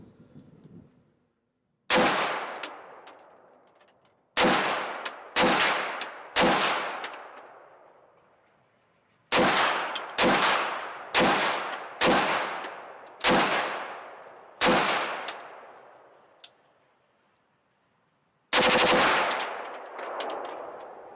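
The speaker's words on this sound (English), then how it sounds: "10 shots in semi-automatic, and then we'll finish out the last 5 in full auto." An AR-15 pistol upper fires ten single semi-automatic shots, loud sharp cracks each trailing off into a long echoing decay, spaced a second or two apart with a couple of longer pauses, then a final short burst near the end.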